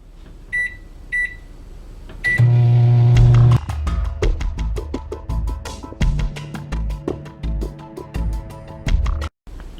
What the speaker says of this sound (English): Now I microwave it for 90 seconds.